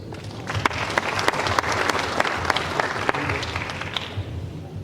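An audience applauding steadily, a dense crowd of hand claps with sharper individual claps standing out, sustained throughout at close range.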